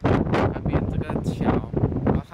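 Strong wind gusts at Hokitika Gorge, on a rainy lookout above a valley road viaduct, batter the microphone in loud, continuous low rumbling buffets.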